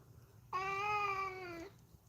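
A pet cat gives a single clear, drawn-out meow lasting about a second, close and fairly loud over a quiet indoor background.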